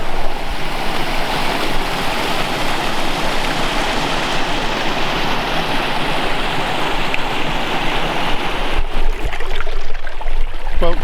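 A small stream running beside a winter wild-camping route on Cloud Peak, steady close rushing and babbling water throughout, with a brief rustle near the end.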